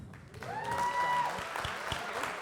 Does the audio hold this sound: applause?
yes